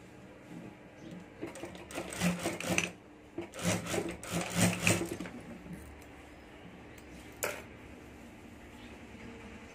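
A sewing machine stitches a potli bag with short, uneven runs of close mechanical rattling broken by brief pauses, then light handling and rubbing of fabric, ending with a single sharp tap.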